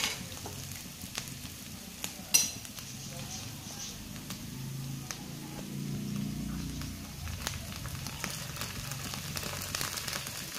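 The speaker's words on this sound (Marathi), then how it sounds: "कोबी चांगला परतून झाला आणि आता त्याच्यात घातलेला आहे मी टोमॅटो केचप" Shredded cabbage with tomato ketchup sizzles softly in a hot pan while being stirred, a quiet steady crackle with occasional spoon scrapes and clinks, under intermittent talk.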